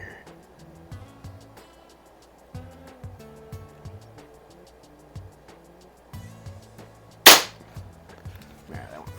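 A Walther LGR single-stroke pneumatic .177 air rifle fires once, a single sharp crack standing out over quiet outdoor background with low rumbling.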